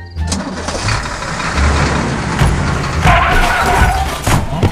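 Truck engine starting in the video game Mr Meat 2: a cranking turnover that catches and settles into a loud, rough mid-pitched idle with knocking pulses, revving up slightly toward the end.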